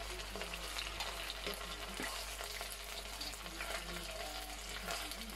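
Fish frying in oil in a pan, a dense continuous sizzle and crackle at moderate level with a low hum underneath, no talking.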